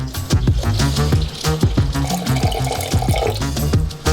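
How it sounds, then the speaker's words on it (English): Water poured from a tap into a saucepan holding 800 grams of sugar, a steady close splashing and gurgling stream with rhythmic bubbling pulses, no talking. "Pour 200 milliliters of water in"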